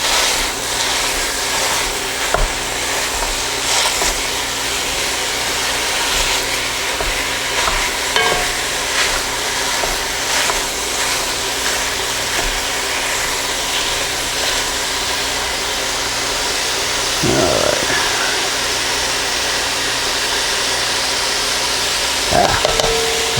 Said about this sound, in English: We'll just let this cook down a little bit.